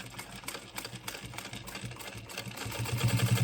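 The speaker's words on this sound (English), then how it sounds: "we sew the side seams of the pocket, placing the wrong sides together" A sewing machine stitches the side seams of a fabric pocket on a shopper bag, a quick steady mechanical whirring and clatter up close that grows slightly louder toward the end.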